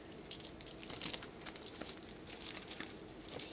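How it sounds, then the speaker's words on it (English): Shuffling a deck of Pokémon trading cards produces a faint, close, rapid patter of cards riffling and flicking against each other, with no talking. "Here, I'll shuffle your deck."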